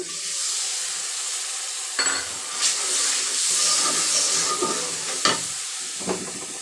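Chicken curry masala with oil, salt and turmeric stir-fried in a pan, a steady close sizzle and hiss with a few sharp scraping stirs of a spoon breaking through.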